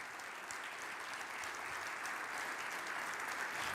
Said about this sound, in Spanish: ¿Cuántos aplauden a Dios?